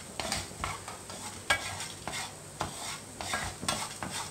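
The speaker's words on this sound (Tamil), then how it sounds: "வறுக்கிற போது ரொம்பவே கருக்காமல் ஜாக்கிரதையாக வறுக்கணும்" Coconut and spices roast in a dry pan for ashgourd rasavangi, stirred with repeated rhythmic scraping strokes of a utensil over a soft, quiet sizzle, close and without talk.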